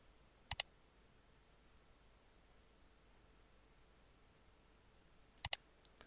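Two quick double clicks of a computer mouse or keyboard while drafting a floor plan in AutoCAD, one near the start and one near the end, isolated against a faint hiss of room noise.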